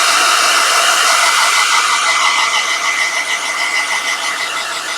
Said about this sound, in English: I apologize for the hair dryer.